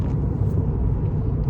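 Low, steady engine and road rumble inside a moving car, continuous and close with no talk over it.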